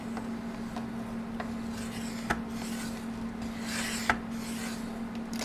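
Paper being scored for a handmade candy box, giving a soft rasping rub along a line with a few light taps, close and quiet, with no talking.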